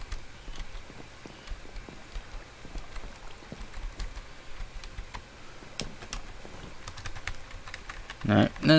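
Computer mouse clicking on Minecraft menu buttons, a run of faint, sharp, irregular clicks under quiet background noise, with a voice near the end.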